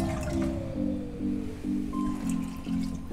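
Water is poured from a glass over chopped vegetables in a pot before boiling them for pav bhaji, producing a steady, rising splashing and filling sound close by.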